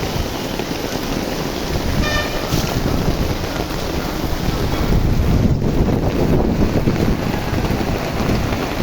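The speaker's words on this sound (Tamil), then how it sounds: "இன்றைக்கி செம்ம மழை திருப்பூரில்" Heavy rain in Tiruppur makes a loud, dense, continuous roar close to the microphone, with gusty wind buffeting and no voices.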